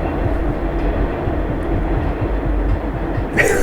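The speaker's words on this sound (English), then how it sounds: "there's now another train passing by every time I try to do any kind of take" A train rolls past nearby with a steady, loud rumble and rhythmic clacking of wheels over rail joints, a brief higher rattle or squeal rising at the end.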